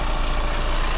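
A VW Crafter campervan's engine idles steadily, a continuous low rumble with even mid-range drone and no revving, close and fairly loud throughout.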